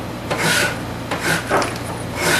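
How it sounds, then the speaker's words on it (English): A rasp scrapes across a rough piece of oak being shaped into a small knife handle, three long strokes with short pauses between them, close and fairly loud with no talking. "What I'm doing here is rasping this here rough looking piece of oak again."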